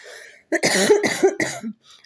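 A harsh, throaty cough bursts out in a short cluster of several hacks, close and loud, with a little throat clearing at the end.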